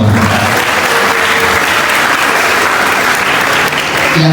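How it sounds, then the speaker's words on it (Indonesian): Audience applause at a sociology seminar fills the room, a dense, steady wash of many hands clapping at close range that holds evenly throughout without a break. "Tepuk tangan untuk kita semua"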